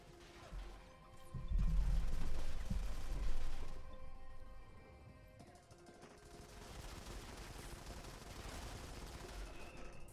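A PR39 rifle in a mobile shooter game fires in a rapid, loud spray of repeated shots lasting about two seconds, then quieter in-game ambience follows with faint, scattered distant sounds.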